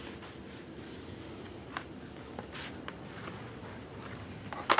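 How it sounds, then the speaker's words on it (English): A bone folder rubs along a paper crease while a large handmade album is assembled, giving soft, close scraping strokes with faint scratchy texture and a brief louder rustle at the end. "And then use your bone folder in the crease."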